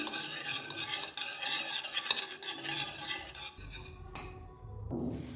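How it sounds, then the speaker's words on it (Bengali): Eggs are being stirred briskly in a mixing bowl for a chocolate zebra muffin batter, giving a steady close scraping and whisking with light clinks of utensil on the bowl, continuous throughout with no talk. "এবার এটা আমি ডিম অ্যাড করে দিচ্ছি। ভালো করে মিক্স করে নিচ্ছি।"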